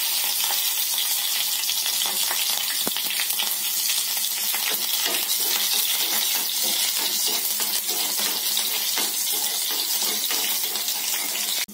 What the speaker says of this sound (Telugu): ఆనియన్ ఫ్రై అయ్యండి